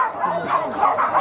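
Dogs at an arena event in Payakumbuh let out high, whiny yelps and barks, close and continuous, with voices mixed in.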